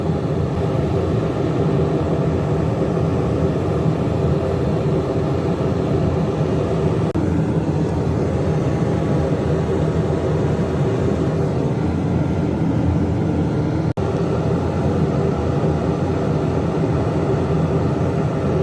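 A homemade jet burner heating a spring-steel chopper blade roars loudly and constantly, a dense, unbroken broadband rush held close for the whole stretch with no voices.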